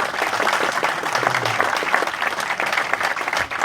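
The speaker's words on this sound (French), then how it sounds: "je pense qu'on peut déjà l'applaudir en tout cas" An audience at a motorcycle racing team's press conference applauds in steady, dense clapping that lasts throughout without voices.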